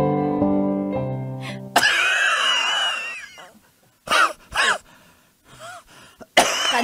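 Several harsh, raspy coughs in separate bursts, close and loud, with a wheezy throat-clearing quality and pauses between them.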